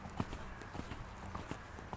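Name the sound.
horse hooves galloping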